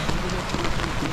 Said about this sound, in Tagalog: At super lakas ng ulan.